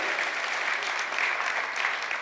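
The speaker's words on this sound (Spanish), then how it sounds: "Dele un aplauso al Señor." A church congregation applauds during a service, a dense, steady wash of clapping from many hands that continues throughout.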